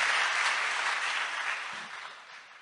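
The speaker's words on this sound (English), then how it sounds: "Give Malema a big clap." Applause for a speaker at a political gathering, a broad crowd clapping in a dense, even roar that is strongest at the start and slowly fades over a couple of seconds.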